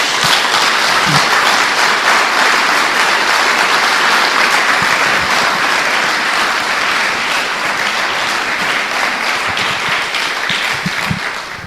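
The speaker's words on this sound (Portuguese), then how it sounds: "Dê uma salva de palmas ao Senhor." Church congregation at a sermon gives a long, loud round of applause, dense and continuous clapping filling the room, fading slightly near the end.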